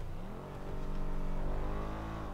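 Engine of the Benefactor Schafter LWB armored car in GTA V, a steady low motor drone that rises slightly in pitch as it builds, close and continuous.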